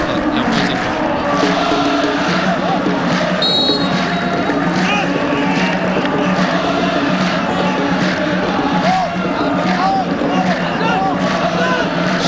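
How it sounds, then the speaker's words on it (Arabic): Football supporters of Qadsia and Al-Arabi chant in the stands during a Kuwaiti league match, a dense, continuous roar of massed voices, with a commentator talking over it throughout. "اسمع اسمع هتافات الجماهير واستمتع"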